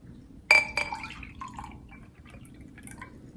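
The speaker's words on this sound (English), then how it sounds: "It's dripping." Cold brew coffee drips into a glass in a few sharp, bright drops near the start, then fainter scattered drips over a low steady background hum.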